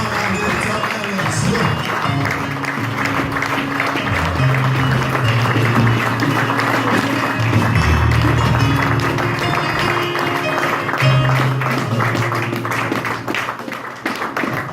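A church congregation applauds and cheers loudly and continuously as the pastor approaches, dense clapping under rising voices with music-like tones running underneath.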